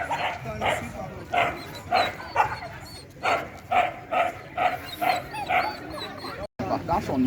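A reactive dog barks and yips in a rapid, repeated series at another dog, close and loud, with a person talking over the barking throughout.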